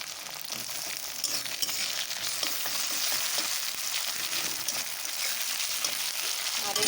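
Chopped tomato sizzles as it hits onions already browned in hot oil for a Bengali moong dal with katla fish head, a steady loud crackling hiss with occasional stirring scrapes throughout.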